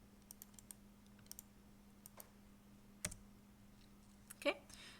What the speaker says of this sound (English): this time I'm going to type this node.